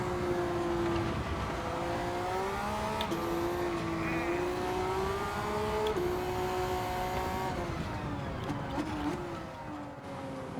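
Modified Z Performance race car with roughly 600 brake horsepower in a sim racing game, its engine droning loudly and steadily throughout, pitch rising and falling through gear changes, with faint talk mixed in underneath.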